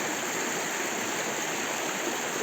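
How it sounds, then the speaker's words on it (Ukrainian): A risen mountain river in the Carpathians rushes past in a steady, dense roar of flowing water, loud and close with no voices over it. "Річка піднялася, але не сильно."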